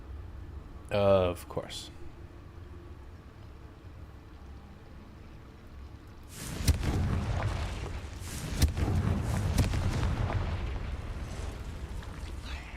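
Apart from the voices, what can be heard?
Confringo blasting curse explosion in the video game Hogwarts Legacy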